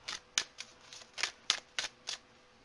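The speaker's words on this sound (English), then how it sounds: "I think I want to shuffle for the rest" Tarot cards are shuffled in a series of crisp, quick riffling bursts, about eight in a row, close and fairly quiet.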